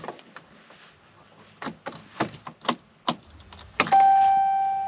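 Keys on a ring jangle in a few close, irregular bursts beside a 2014 Ram 4th Gen pickup, followed by a steady electronic tone once the key is turned on.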